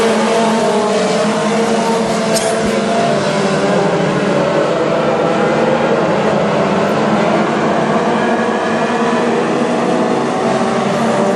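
WISSOTA modified race cars roar around the North Central Speedway oval, a loud, sustained engine drone with shifting harmonic tones as the pack passes, no voices over it.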